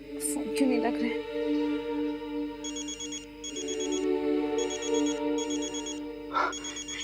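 A telephone call rings back with repeated electronic tone bursts in evenly spaced pairs, faint and steady, after a short burst of other sound at the start.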